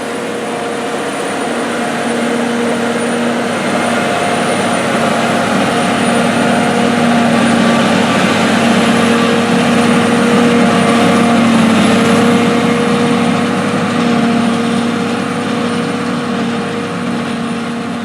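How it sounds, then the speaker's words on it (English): A John Deere 4455 tractor drives a John Deere 150 silo blower filling a Harvestore silo, giving a loud, steady engine drone with a constant whining hum that holds unbroken throughout. "We'll also see and hear this tractor at work filling a Harvestore silo with a John Deere 150 silo blower."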